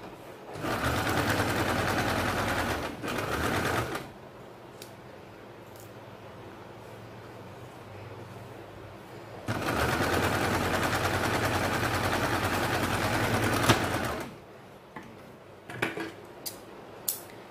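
A sewing machine stitches buckram onto a collar in two long, rapid runs of mechanical whirring, separated by a quiet pause with small clicks and handling noises.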